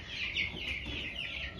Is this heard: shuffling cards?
no